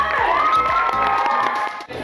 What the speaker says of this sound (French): on va donner une bonne main d'applaudissements à tous nos cosplayers